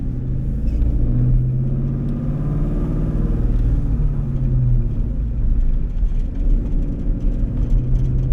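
A 2002 Ford Mustang GT V8 engine idling, a steady, deep, lumpy rumble heard close up and continuing evenly without any talking.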